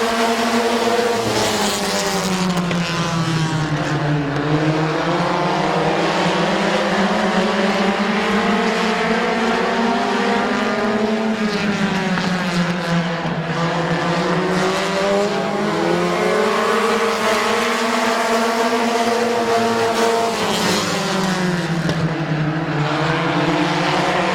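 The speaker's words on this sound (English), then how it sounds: "Peebles and Cook side by side for second." Race cars roaring around Midvale Speedway, a loud continuous engine drone that rises and falls in pitch as the cars lap the oval, with no talk over it.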